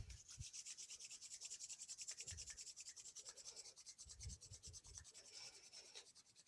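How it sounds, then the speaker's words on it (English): Palms rub briskly together during a yoga class, a close, dry rasping swish repeated in quick steady strokes for several seconds, with no talking. "And rub your hands together."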